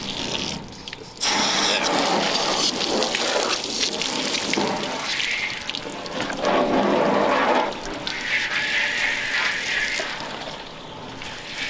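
Hose water sprays steadily across a 1934 Ford Tudor hot rod, a continuous loud splashing and spattering wash that surges and shifts as the stream moves over the body, with no talking.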